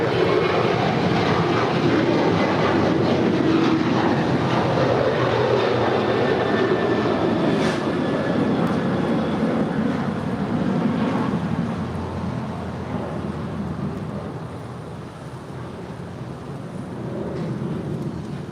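A Cargo King 224 cargo jet taking off at LAX, a loud, steady broadband engine roar that holds strong, then eases and recedes slightly as the aircraft climbs away.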